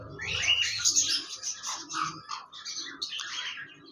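Pet birds in a home aviary chirp and tweet in quick, overlapping bursts, bright and fairly close, continuing steadily with no talking.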